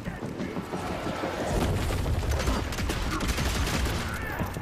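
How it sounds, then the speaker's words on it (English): Gunshots and explosive blasts from the Evil West video game come as a dense, loud fusillade of repeated impacts and booms, with a little voice in the background. "Just gonna shoot him down."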